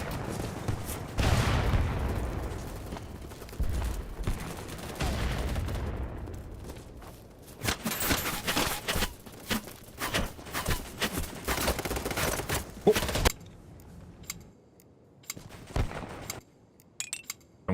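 Gunfire from a video game, Battlebits, with an SMG firing in dense, loud bursts and sustained volleys, broken by short gaps and scattered single shots toward the end.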